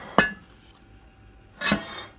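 Dishes clinking as they are shifted about during one-handed cooking of a dauphinois lasagna, two sharp clattering knocks about a second and a half apart, close by with quiet pauses between.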